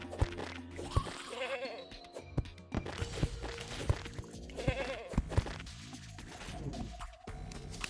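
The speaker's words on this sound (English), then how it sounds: "I got this new accessory that changes my hurt noise to a goat" In the video game Terraria, an accessory swaps the player's hurt sound for a goat bleat, so repeated bleats ring out amid busy game effects, thumps and clicks.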